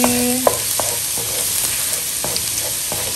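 Shrimp frying with plenty of garlic in a pan, a constant close sizzle with scattered sharp spatula taps and scrapes as it is stirred.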